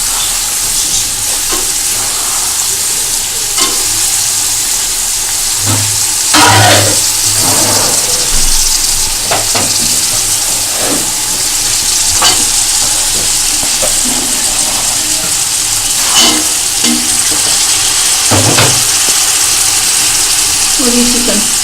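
Spicy Chinese fried rice with peas and chicken being stir-fried in a pan: a steady sizzle runs throughout, broken by repeated sharp scrapes and clanks of a utensil stirring, with a faint low engine-like hum in the background.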